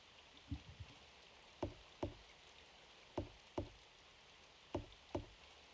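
Knocking on a door in the Symphonic Rain game: three pairs of sharp wooden knocks spaced evenly apart, crisp and moderately loud over a quiet, faintly hissing background.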